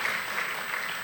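A brief burst of congregation applause at a church Ascension Day service, steady and fairly full, lasting about a second.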